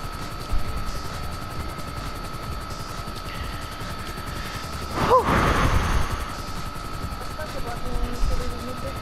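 Helicopters in the video game Grand Theft Auto V, a steady rotor drone holding through the scene with a louder swell of noise midway; no one speaks.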